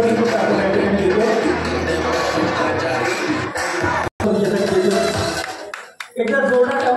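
A crowd claps and cheers at a Navratri Home Minister Paithani game event. The dense, loud wash of applause and crowd noise runs almost continuously, with a voice talking through it and a brief gap midway.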